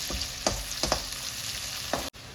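Sliced onions frying for methi chicken, sizzling steadily and loudly in a pan with several sharp scrapes of a spatula stirring them, and no talking.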